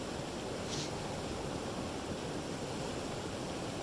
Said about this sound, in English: collection of more and more water flowing down the mountain